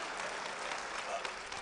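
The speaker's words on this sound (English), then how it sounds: "Go ahead and give them a round of applause" Applause at a fraternity regional public program awards segment, a dense, even wash of clapping from a large crowd, soft and distant.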